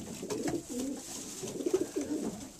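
Racing pigeons cooing inside a loft, soft close rolling coos that repeat in short bursts and pauses over a quiet background.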